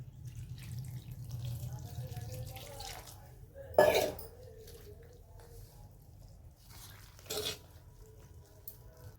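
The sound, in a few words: water poured into pumpkin thalipeeth dough and mixed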